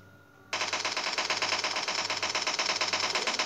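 An Uzi fires in a zombie video game, a sudden continuous rapid burst of automatic gunfire that starts about half a second in and runs steadily to the end, fairly loud and without voices.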